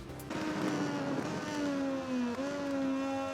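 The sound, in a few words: racing motorbike engine in MotoGP 19 video game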